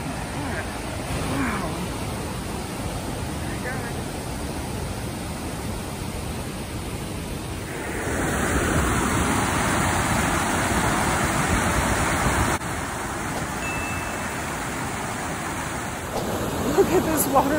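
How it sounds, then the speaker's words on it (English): Steady rushing water from a waterfall on Moose Creek Trail in Yellowstone, a broad constant roar that swells louder partway through and holds, with some voices faintly over it. "There's apparently a waterfall."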